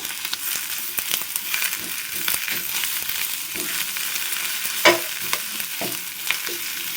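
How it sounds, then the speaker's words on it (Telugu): Oil sizzling in a pan while a spatula scrapes and knocks through frying ginger and greens for a drumstick-leaf and curry-leaf chutney in repeated stirring strokes, with no talking. "ఇప్పుడు వీటన్నిటిని కలిపి ఇంకా కాసేపు అటు ఇటు తిప్పుకుంటూ మనం ఫ్రై చేసుకోవాలి"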